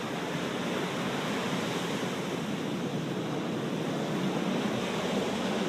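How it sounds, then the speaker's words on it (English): Water running down from rocks at a beach makes a steady, broad rushing hiss, constant and unbroken with no speech. "there's water coming down from here"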